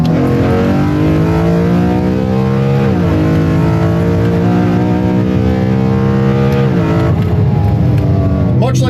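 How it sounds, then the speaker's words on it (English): Engine-swapped street car revving hard, its loud induction roar rising and falling through the rev range with strong harmonic whine, steady and close throughout with no talk over it. "the induction noise on this engine is incredible"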